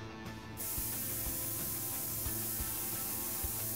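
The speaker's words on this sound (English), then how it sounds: "Spray." A cleaner spray hisses steadily onto a disassembled weapon in the Prison Simulator video game, one continuous close hiss lasting several seconds after a brief quieter start.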